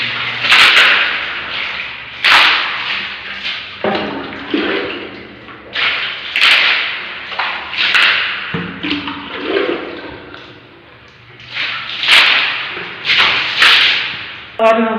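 Water thrown in repeated splashing bursts across a floor during house cleaning, each slap of water landing loud and close with brief gaps between throws, with occasional faint voices in the background.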